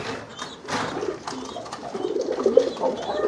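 Pet pigeons coo softly and repeatedly close by, with low throaty calls rising toward the end over a faint room background.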